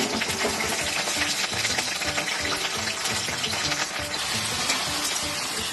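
Vegetables for a colocasia and pumpkin curry dropped into hot oil in a frying pan, giving a dense, steady, close sizzling hiss with no voices.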